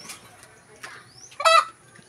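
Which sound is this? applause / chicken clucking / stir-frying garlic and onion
chicken clucking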